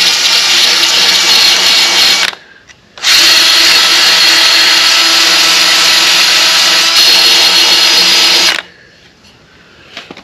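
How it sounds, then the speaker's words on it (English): A power drill fitted with a sanding disc grinds paint off the metal of a utility trailer, running loud and steady in two long bursts separated by a brief pause, then stopping. "I got a sanding disc on my drill. I'm just gonna come here on the back side."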